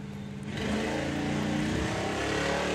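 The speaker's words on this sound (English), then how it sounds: "he has got the fun switch in there, though, with the exhaust cutouts on there." A drag racing car at a drag strip festival revs with its exhaust cutouts open, the engine roaring in suddenly and holding a loud, steady, rough drone at close range.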